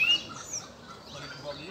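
Caged double-collared seedeaters (coleiro) sing with high, thin chirps and short trills, faint over low background noise, a couple of brief phrases in quick succession.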